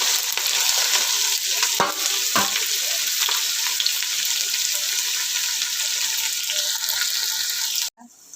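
Onion dropped into a hot pan with whole garam masala spices, sizzling loudly and steadily with a few sharp stirring scrapes, then cutting off abruptly near the end.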